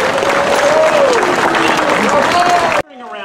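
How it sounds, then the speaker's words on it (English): Sustained audience applause at a Vietnam War Veterans Day ceremony, a dense wash of clapping from a crowd, with a voice over a loudspeaker carrying above it before the applause cuts off abruptly near the end. "A round of applause."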